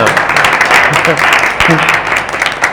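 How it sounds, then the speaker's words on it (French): Audience applause at a meeting with finalist group leaders of a challenge competition, loud close clapping with voices talking over it throughout. "Il faut applaudir."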